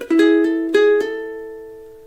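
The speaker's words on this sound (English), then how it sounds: "we're going to play that again, but with just the 2nd string this time hammering on" Ukulele phrase played on the 2nd string with hammer-ons, a few quick plucked and hammered notes ringing into one sustained tone that slowly fades, close and alone.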